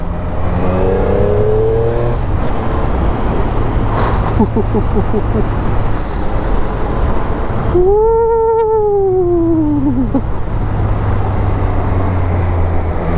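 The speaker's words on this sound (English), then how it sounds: "this is a sporty exhaust note" A 2020 Triumph Street Triple RS motorcycle revs its sporty exhaust on the road, rising and falling in loud, close pulls with a sharp swoop up and back down midway, under steady wind noise.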